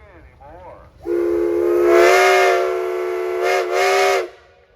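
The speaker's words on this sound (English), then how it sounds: "Grayson, you got a whistle." A loud steam tractor whistle blows one long sustained blast at a threshing show parade, dips briefly, then sounds again before cutting off, with faint voices before it starts.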